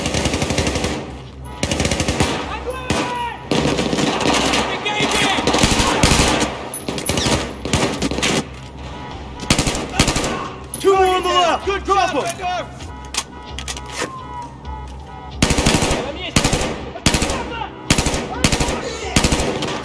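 Bursts of automatic gunfire and single shots crack loudly through a Battlefield 4 war battle, mixed with explosions and shouting soldiers, the volleys coming in repeated dense runs with short gaps between them.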